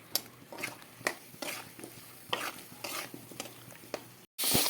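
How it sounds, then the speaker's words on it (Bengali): Spices with salt and turmeric are stir-fried in a pan for singi fish curry, giving quiet rhythmic scraping strokes about every half second, close and fairly faint, ending in a sudden loud burst. "এবার সুন্দর করে এটাকে কষিয়ে নেবো"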